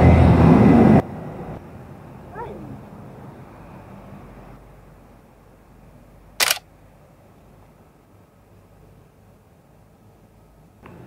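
Phone camera shutter firing once for a selfie, a short sharp click standing alone after a burst of loud background rumble, with quiet ambience around it and a faint second tick at the very end.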